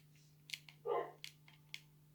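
A Minecraft dog gives a single short bark, quiet and distant, over a steady low hum with a few soft clicks around it.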